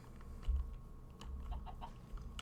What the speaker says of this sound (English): I'm going to have to kill one of these chickens